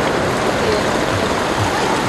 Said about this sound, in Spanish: Se vino con todo, camarada, el agua.